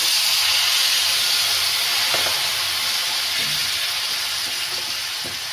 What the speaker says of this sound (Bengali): এখন আমি এর মধ্যে তিতুল মিশ্রণটা দিয়ে দেব।